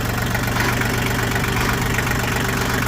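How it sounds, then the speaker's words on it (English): Tractor engine idling while being driven into a shed, a steady, loud, rough diesel-like throb with constant low thumping pulses and no talk. "I can't get the tractor all the way in"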